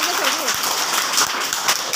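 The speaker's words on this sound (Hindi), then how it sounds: "ताली जोर से बजा दो" Schoolchildren at a government school clap loudly during a classroom alphabet game, a dense burst of applause mixed with children's voices and chatter.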